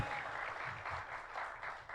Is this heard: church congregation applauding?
yes